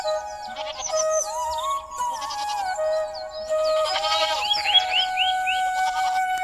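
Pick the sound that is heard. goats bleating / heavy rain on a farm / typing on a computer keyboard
goats bleating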